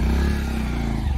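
Motorcycles being forced up a steep riverbank produce a loud, steady, low engine drone that continues without a break.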